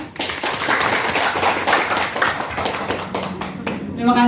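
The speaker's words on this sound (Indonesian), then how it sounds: "Tepuk tangan untuk Pak Andra." Clapping for Pak Andra after his presentation at a 2024 teachers' in-service session, dense claps filling the room steadily for about four seconds, with voices mixed in.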